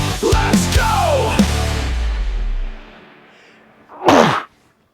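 A single loud, sharp sneeze, heard near and clear after a few seconds of talk and a quiet pause.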